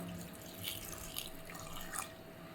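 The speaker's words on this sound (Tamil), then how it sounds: "இந்த பருப்புக்கு தேவையான அளவுக்கு தண்ணி சேர்த்துடலாம்." Water runs and splashes steadily into a pot of lentils, a continuous broadband trickle with slight surges, fairly close and moderately loud.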